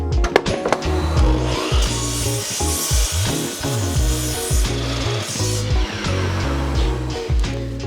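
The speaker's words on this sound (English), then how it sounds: "I will now demonstrate that this saw can easily cut this" A Makita LS1219L compound mitre saw cuts through 145mm timber, a loud sustained rasping whir of the blade biting wood with uneven surges throughout the cut, no talking.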